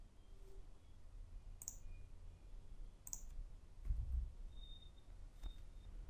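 Computer mouse clicking while a Run window is opened: a few sharp, isolated clicks spaced over several seconds, quiet and close against a faint background hum, with no talking.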